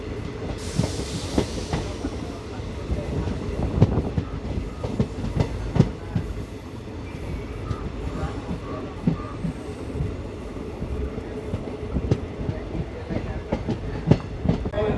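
The Narasapur–Hubli Amaravathi Express rolls on its rails near Bhimavaram Junction, a steady rumble with repeated clickety-clack wheel beats and occasional sharper knocks from the carriage, loud and close from onboard.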